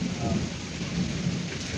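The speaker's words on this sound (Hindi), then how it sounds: "खौफनाक आवाज़ें हैं बादल की।" Heavy storm rain pours steadily over a village with kacha (mud) houses, a deep rumble of thunder rolling underneath the dense hiss of the downpour, close and continuous with no pauses.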